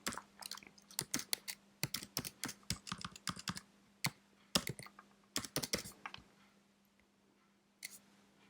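Card details typed on a computer keyboard: quick bursts of crisp, close keystrokes in irregular runs, then a pause and a final few taps, in a quiet room without talk.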